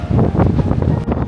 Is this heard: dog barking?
no